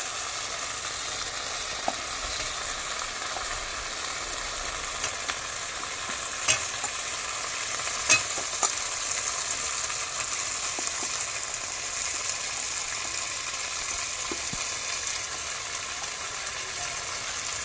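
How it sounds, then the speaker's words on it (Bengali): Mutton frying in a pan of oil for a Bengali mutton kosha, a steady moderate sizzle with a few light clicks of stirring, close by and with no talking. "এবার আমি মাটনটা দিয়ে দেবো।"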